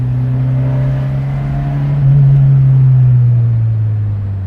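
Fiat X1/9 engine droning steadily from inside the cabin while driving, a low sustained hum that swells louder around the middle as revs rise, then eases slightly, with no talk.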